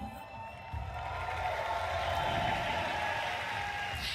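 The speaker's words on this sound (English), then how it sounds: "There's definitely some mixed cheers here" Crowd at The International Dota 2 finals giving mixed cheers and applause, a steady roar of many voices that swells slightly after the first second and holds at a loud, even level.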